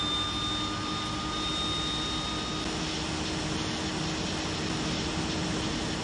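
Aircraft engine spooling up in a flight simulator game cockpit, a steady loud roar with a whining tone held throughout, no talking.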